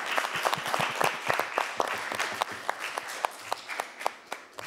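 A television studio audience applauds. Many hands clap in a dense, lively burst that is close and moderately loud, with a faint murmur of voices underneath.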